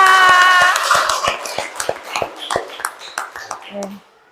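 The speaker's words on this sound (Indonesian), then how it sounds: "Tepuk tangan untuk kita semua." A small group in a presentation room clapping in a loose, spaced rhythm that follows a sustained tone, individual claps distinct and fading out near the end.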